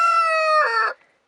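A chicken, a rooster by the sound, gives a single loud, close crow lasting about a second and ending abruptly, with no voices around it.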